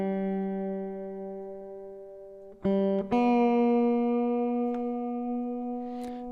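A single plucked guitar string rings out while its pitch slides up as it is tuned, then it is plucked again and keeps ringing.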